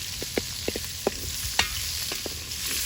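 Dried Spanish chorizo-style sausage frying as its fat renders in a hot bogrács kettle for lecsó, a steady close sizzle punctuated by scattered light pops and stirring clicks, no voices.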